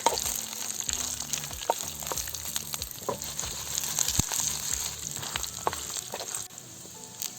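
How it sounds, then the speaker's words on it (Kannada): Garlic and coconut pieces frying in a pan with a curry leaf sprig give a busy, crackling sizzle with repeated scrapes and knocks of a ladle stirring throughout. "ಬೆಳ್ಳುಳ್ಳಿ, ಕೊಬ್ಬರಿ ಚೂರು ಸ್ವಲ್ಪ ಫ್ರೈ ಮಾಡಿಕೊಂಡ್ರೆ ಸಾಕು."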